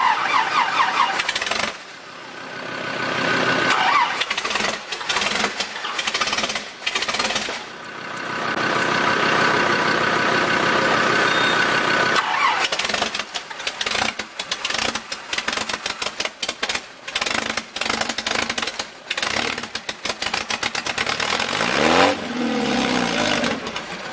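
Unmuffled four-cylinder engine of an Austin Healey 100/4, firing for the first time in decades with no muffler fitted, cranking and catching into loud, rough revving bursts and idle, close and unbroken throughout.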